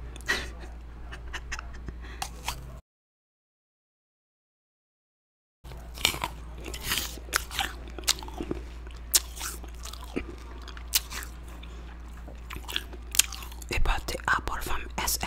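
Homemade caramel-flavored apple candy being eaten up close, sharp crunchy bites and sticky chewing in irregular bursts, with breathy whispering and a few seconds of total silence early on.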